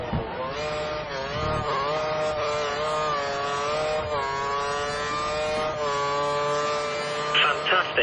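Racing engine of a Formula 1 car in the F1 2013 video game, a steady high-pitched whine holding nearly constant pitch with slight rises and dips, loud and continuous, with a brief burst of extra noise near the end.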